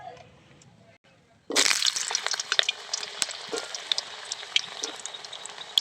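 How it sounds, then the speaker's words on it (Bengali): Carrot and papaya hit hot oil in a pan for shukto; after a quiet moment a loud burst of sizzling starts and keeps crackling steadily, with small pops and spatters scattered through it. "এবার আমি গাজর আর পেঁপেটা ভেজে নেব।"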